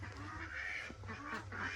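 Ducks quacking in a steady clamor, close by, with continuous background noise and no talking.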